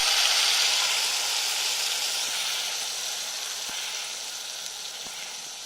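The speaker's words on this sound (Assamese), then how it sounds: "এইখিনি অকণমান ফুটিবলৈ দিম আৰু ইয়াতে মই পিচি থোৱা পিঁয়াজ আৰু জলকীয়া বাটাখিনিও দি দিম।" Hot oil sizzles steadily as whole spices with cinnamon and mace cook and a ground onion and chili paste goes in, a close, continuous hiss that softens slightly, with a few faint clicks.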